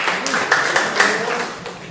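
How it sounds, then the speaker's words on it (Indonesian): A classroom of vocational high school students claps in short, rhythmic bursts, several beats close together, with voices mixing in beneath the applause. "Oke, tepuk tangan."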